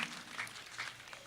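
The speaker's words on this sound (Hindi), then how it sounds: "और उसके लिए जोरदार पुनः तालियां" An audience at a Ganga Aarti gathering in Rishikesh claps in a brief, fairly soft burst of applause that swells in small waves, with no voices over it.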